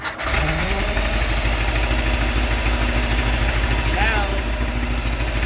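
A supercharged VW dune buggy engine, an Empi Imp fitted with an AMR 500 blower, cranks and fires, then settles into a loud, steady, rumbling idle close by with a constant rough vibration and a faint whine rising briefly.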